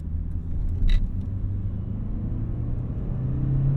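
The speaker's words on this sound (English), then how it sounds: "Driving the 1988 Honda Accord." A 1988 Honda Accord LX-i with a five-speed manual gearbox drives along, heard from inside as a steady low engine and road rumble that rises gently toward the end, with a brief faint high squeak early on.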